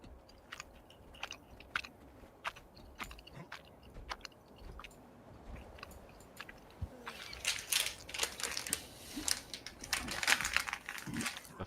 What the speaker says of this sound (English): you get to hear Thylan's wonderful chewing of his chips